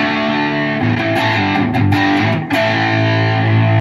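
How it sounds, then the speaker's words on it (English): Electric guitar run through a JHS PG14 distortion pedal by itself, thick saturated chords and sustained notes with a few brief breaks between strums, loud and close with no voices. "This is what it sounds like on its own"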